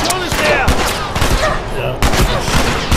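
Rapid gunfire in The Last of Us Left Behind while surrounded by enemies, loud close bursts cracking over a busy combat mix, with a voice talking through it.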